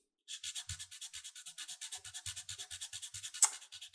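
Soft pastel rubbed on paper, a quick rhythmic series of faint, dry scratchy strokes, close and quiet, ending in one sharper scrape.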